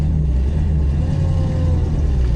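1974 Ford Maverick sedan's engine idling with a deep, steady low rumble, loud and close, the exhaust throb continuing evenly without speech.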